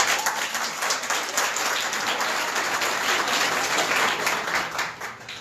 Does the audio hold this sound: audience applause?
yes